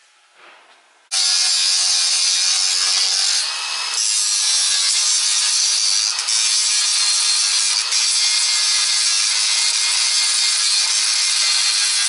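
Hand saw cutting through stripped T-track pieces on a DIY overland camping shelf build, a loud steady rasping stroke after a brief quiet start, continuing without pause close up.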